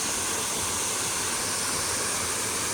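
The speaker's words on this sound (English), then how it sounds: "now we are going down to the waterfall" A waterfall along a California fire trail hike, heard as a constant, broad rushing roar of falling water, steady and fairly loud with no voices.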